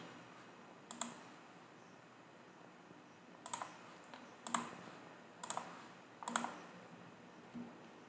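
Sparse, separate clusters of keyboard clicks from typing code on a computer keyboard, a few short bursts spaced a second or so apart, fairly quiet over a low room hiss.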